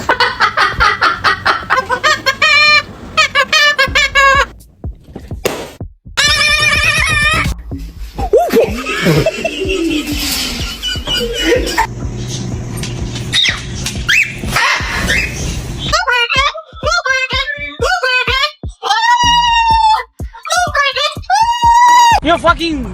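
A pet parrot screams and squawks in repeated harmonic bursts, loud and close, with stretches of rough noisy calls in between. No words are spoken.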